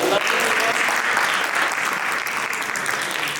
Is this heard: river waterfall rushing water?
no